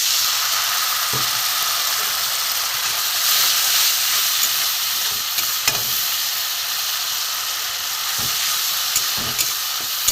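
Water hisses and sizzles steadily as a small amount is added to a hot pan of browned spices for a gourd and shrimp kebab dish, a loud, even frying hiss with occasional stirring clicks.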